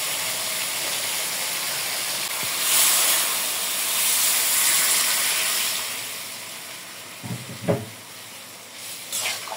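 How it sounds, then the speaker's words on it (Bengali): Water is poured into a hot pan of frying okra and spices for a curry gravy, raising a loud hissing burst of steam that swells, fades, and gives way to a few utensil knocks. "ঝোলের পানি দিয়ে দেবো।"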